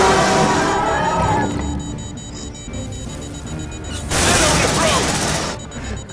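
The player's gun firing in Aliens: Dark Descent, loud bursts of rapid gunfire that thin out midway, then surge again near the end amid chaotic game effects and background voices.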